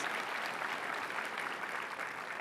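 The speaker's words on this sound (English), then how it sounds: "How about a round of applause for all of yourselves?" Steady applause from a large keynote audience at a business conference, an even wash of many hands clapping from a distance, quiet and continuous throughout.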